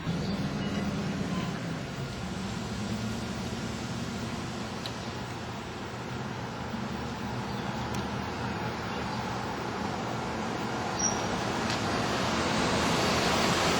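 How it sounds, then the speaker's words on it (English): A pickup truck hauling an RV rolls through the narrow streets of a small Tennessee town square, its engine a steady low rumble under road and wind noise, with faint high beeps near the end. "I'm driving my truck with the RV on the back."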